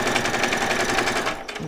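A sewing machine back stitches Christmas pyjama fabric in a quick, rattling burst of needle strokes that runs close and loud, then cuts off abruptly near the end.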